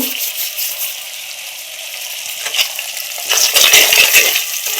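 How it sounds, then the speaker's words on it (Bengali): A spice masala with turmeric is stir-fried in a pan, giving a loud, close hiss of hot oil that grows brighter and busier as stirring picks up toward the end. "হলুদ দিয়ে দিলাম দিলাম দিয়ে আবার মশলাটা একটু কষিয়ে নেব"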